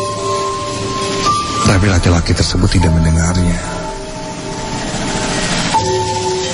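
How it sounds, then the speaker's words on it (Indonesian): A fast train rushes past, with a horn-like tone and a burst of rolling rail clatter in the middle, set under a narrator's voice telling a mystery story. "ada kereta yang melaju kencang di belakangnya"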